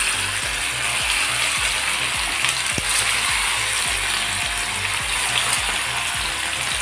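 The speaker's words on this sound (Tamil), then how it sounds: "மீனை பொரிச்சிருவோம். லோ ஃப்ளேமில் தான் பொரியணும்." Fish fried Madurai style in hot oil over a low flame gives a steady bright sizzling hiss, with soft regular low ticks pulsing beneath it, constant in level and without any talk.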